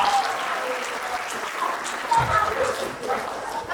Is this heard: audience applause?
yes